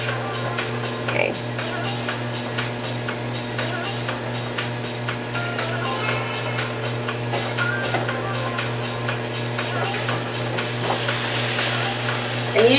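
Chicken fried rice sizzles steadily in a hot pan, a constant close frying hiss with light scraping and stirring taps, with a person speaking over it.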